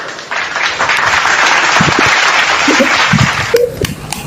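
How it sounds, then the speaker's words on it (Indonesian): Loud, dense applause from a debate audience for Bang Zuma, an unbroken wash of many hands clapping that stays steady throughout, with a few low murmurs of voices rising near the end. "Tepuk tangan untuk Bang Zuma"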